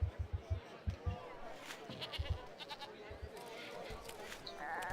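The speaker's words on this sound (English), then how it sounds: "We'll put in another goat farm here." Goats bleat at a goat farm in the video game CivCity Rome, several short repeated bleats coming in quick clusters, fairly faint, under someone talking and ambient game sounds.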